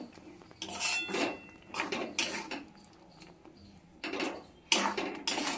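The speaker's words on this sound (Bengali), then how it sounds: "এবার মশলার সঙ্গে সজনে ডাঁটাটা ভালো করে কষিয়ে নেব।" Sajne drumstick stems being stir-fried with spices in a pan for a Bengali potato curry, heard as intermittent bursts of metal spatula scraping and clattering against the pan, separated by brief quieter gaps.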